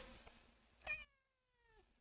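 A cat named Stella meows once near the mic, a short rising-falling call with a bright tonal body, followed by a softer trailing tone before quiet room hiss.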